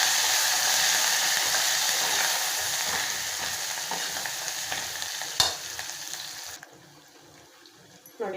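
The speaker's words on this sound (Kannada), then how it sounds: "ನಾವು ಕೊತ್ತಂಬರಿ ಪುದೀನ ಹಾಕೋಣ. ಅದು ಸ್ವಲ್ಪ ಫ್ರೈ ಆಗಲಿ ಎಣ್ಣೆಗೆ" Coriander and mint frying in hot oil for khichdi, a loud continuous sizzle with stirring scrapes that drops away abruptly near the end, leaving quiet.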